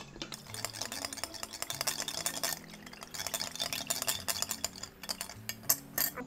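A spoon stirs caramel milk grass jelly drink, a sweet Thai dessert drink, in a pot or glass, giving repeated scraping and clinking strokes at close range, steady and fairly quiet, with no one speaking.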